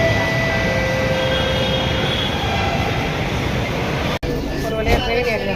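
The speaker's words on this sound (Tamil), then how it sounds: "ஒரு வழியாக ட்ரெயின் ஏறியாச்சு." A passenger train rumbles along in India with a steady, loud roar of wheels and carriage noise, interrupted by a sharp break near the end where the sound shifts, with people talking faintly.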